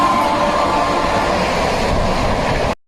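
A passenger train runs steadily toward Parasnath station, a continuous rumbling roll with faint clatter heard from on board, loud and even until it cuts off abruptly near the end.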